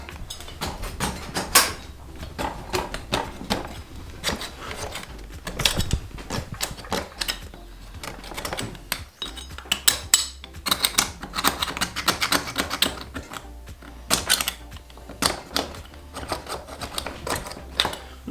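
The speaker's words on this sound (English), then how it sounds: "So the stubborn stuff that won't come off, I take a putty knife to." A putty knife scrapes stubborn buildup from below the muffler of a Husqvarna 565 or 562XP chainsaw. It makes rapid, irregular scratchy strokes and clicks, close and continuous.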